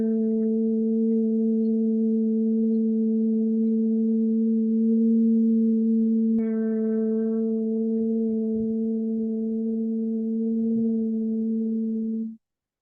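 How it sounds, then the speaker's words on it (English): A steady, sustained human hum on a long exhale during Bhramari bee breathing, a smooth, even drone held for about twelve seconds with one brief shift in tone midway, close and alone with no talking. "creating a hum."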